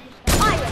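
A sudden burst of gunfire from a battle royale shooter game, kicking in abruptly about a quarter second in and holding loud and dense to the end.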